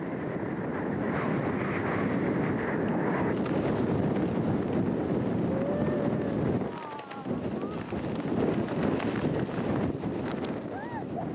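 Strong wind roars in a steady broadband rush across the Lancelin sand dunes during a sandstorm, with gusts buffeting the microphone; a brief lull comes about two-thirds through before the blast returns.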